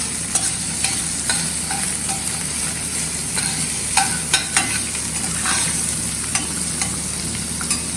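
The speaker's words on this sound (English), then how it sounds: "You can just take capsicum and throw it in. Let it cook a little bit." Capsicum fries for Indo-Chinese sweet and sour paneer, a steady close sizzle in a pan broken by scattered clicks of a spoon stirring.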